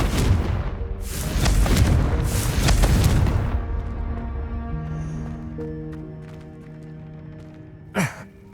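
A fire-spell blast in Hogwarts Legacy bursts as a deep, booming explosion that rumbles for a few seconds and then fades into a low magical hum, with a brief sharp whoosh near the end.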